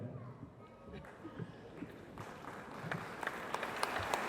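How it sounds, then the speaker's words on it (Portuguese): A swearing-in ceremony audience for newly appointed substitute prosecutors rises for applause; clapping builds from faint scattered claps into a fuller, denser ovation, with voices murmuring underneath. "Eu acho que ficaria muito bonito uma salva de palmas com todos vocês de pé."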